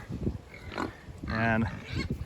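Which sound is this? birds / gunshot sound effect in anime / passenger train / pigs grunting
pigs grunting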